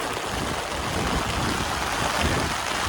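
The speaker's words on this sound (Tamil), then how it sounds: "மழை பயங்கரமாக பெய்யுது." Heavy rain pours down in a steady, dense roar, close and continuous from start to finish with no voices.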